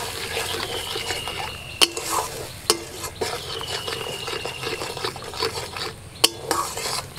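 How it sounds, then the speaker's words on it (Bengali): A spice paste for an onion- and garlic-free paneer biryani sizzles in the pan after a splash of water, with a continuous hiss broken by sharp scraping strokes and clinks as it is stirred. "মশলাটার মধ্যে একটু জল দিয়ে দিচ্ছি।"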